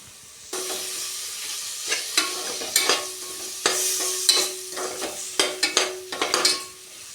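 Curry leaves hitting softened tomato and onion in a hot pan for a beef roast, crackling into a loud sizzle with repeated sharp stirring scrapes and bursts of spitting oil.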